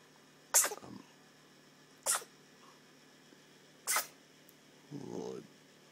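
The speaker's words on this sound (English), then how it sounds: "Couple good sneezes there." A baby lets out three short, sharp sneezes spaced a couple of seconds apart, close and fairly quiet in a calm room, followed by a soft fussing sound.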